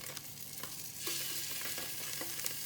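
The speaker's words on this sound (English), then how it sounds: "put them into our pot here and fry them" Garlicky ingredients fry in a pot for cassoulet, a steady close sizzle with a few stirring knocks and scrapes, growing slightly louder partway through, with no talking.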